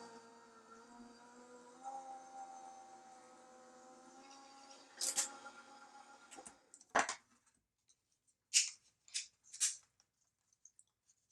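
A craft cutting machine cuts Yupo paper on a second pass: a steady whining motor hum with layered tones runs for about five seconds, then gives way to a few sharp clicks and short bursts.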